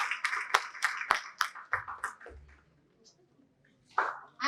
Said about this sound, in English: Please welcome them with a loud round of applause.